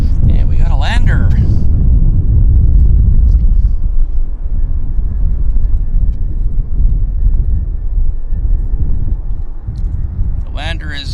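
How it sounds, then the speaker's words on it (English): An Air Canada A320 airliner landing at Vancouver Airport, heard as a steady low rumble and roar carrying on for several seconds, with voices talking briefly at the start and end. "The lander is Air Canada 239 from Edmonton. It's an A320."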